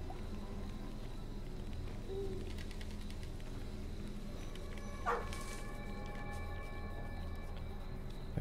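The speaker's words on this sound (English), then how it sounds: "There's that dog." In the horror game Maid of Sker, a dog barks a couple of times in the middle distance over a low, constant ambient drone, with a sharper yelp standing out partway through.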